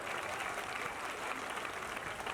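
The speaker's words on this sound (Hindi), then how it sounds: "तालियों के साथ उनका स्वागत करें, अभिनंदन करें।" Applause from a political rally crowd in Bhatapara welcoming Assam Chief Minister Himanta Biswa Sarma, a short, dense, even patter of clapping with no voices on top.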